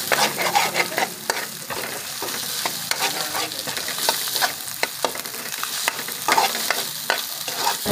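Pork sisig with egg stirred and frying in a pan, a steady loud sizzle broken by frequent scraping strokes of a utensil against the pan, with no voices.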